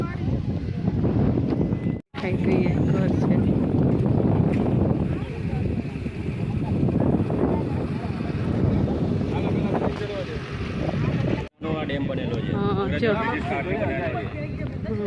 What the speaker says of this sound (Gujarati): અહીંયા એકદમ સરસ પવન છે ઠંડો ઠંડો